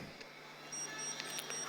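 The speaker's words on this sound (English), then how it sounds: "team 5 is on the buzzer" A quiz show buzzer at a finance and stock market quiz grand finale gives a few faint, high, steady beeps over quiet room tone, with no talking.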